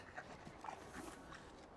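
A dog in the Lego Lord of the Rings video game, heard as faint panting and soft whimpering yelps over quiet game ambience.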